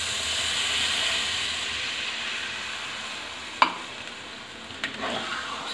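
A mushroom, paneer and peas curry hisses and sizzles in a pan, a steady steamy frying sound that fades slightly, with two sharp utensil knocks from stirring near the end.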